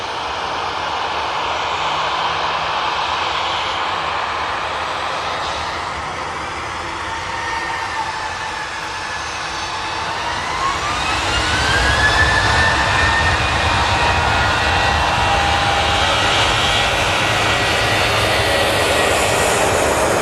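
A Jet2 Boeing 737-800 taking off from Manchester Airport, its steady jet engine roar swelling as it climbs away, heard from a fair distance with no talk over it.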